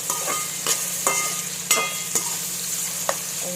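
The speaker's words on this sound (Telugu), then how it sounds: "ఆనియన్స్ మంచిగా ఇట్లా వేయనివ్వండి" Onions fry in hot oil in a pan with a steady hiss, while a spoon stirs them, making sharp scraping clicks at irregular intervals. No one speaks.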